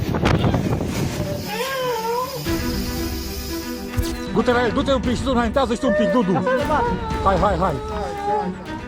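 A small, hungry rescued cat on a shore meows repeatedly in short, wavering cries while a person talks over it outdoors, with wind and background rumble.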